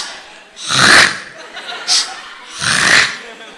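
A person mimics snoring with two long, loud, rasping breaths separated by a short snort, close and alone with no other voices.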